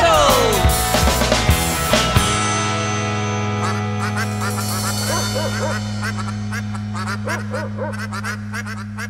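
Duck quacks in a children's rock song ring out as a run of bright, repeated honking calls over a steady, sustained backing of music.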